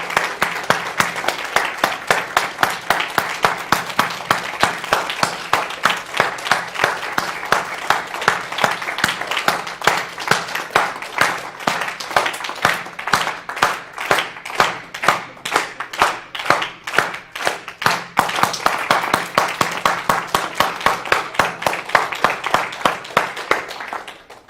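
An audience claps in unison, a dense, steady stream of hand claps that stays loud and near for the whole stretch and becomes more rhythmically synchronized over time, with no speech.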